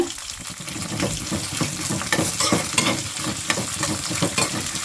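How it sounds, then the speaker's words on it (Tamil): Green chillies and garlic sautéing in a pan for a tiffin sambar and garlic chutney: a loud, continuous close sizzle of frying, with scraping stirring strokes running through it and no talk. "இப்போ இதோட நம்ம எடுத்து வச்சுருக்க பூண்டை சேர்த்துட்டு இது எல்லாத்தையுமே ஒரு ரெண்டு நிமிஷம் வதக்கினா போதும்"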